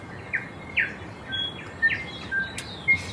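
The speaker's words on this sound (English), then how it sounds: "As you can hear, the birds going crazy outside." Several birds chirping outside a hot tent while camping in a rainforest, short bright calls scattered irregularly over a soft steady background hiss, moderately distant, no talking.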